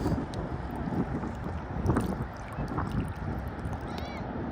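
Steady wind gusts outdoors at a shellfish-gathering spot by the water, a continuous rushing roar buffeting the microphone, loud and constant throughout.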